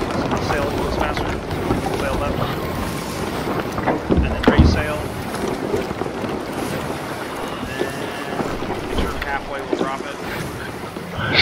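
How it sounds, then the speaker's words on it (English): A sailboat has its sail hoisted in steady wind, with continuous gusting and rushing water beneath the hull. Voices talk over it throughout. "Sail left, and then raise sail."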